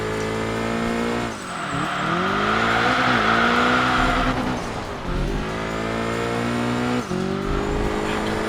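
Race car in Enthusia Professional Racing at the Tsukuba circuit, engine loud and close, revving high and dropping through gear changes while tires squeal through a turn.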